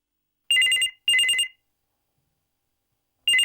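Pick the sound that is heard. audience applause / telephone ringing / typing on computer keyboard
telephone ringing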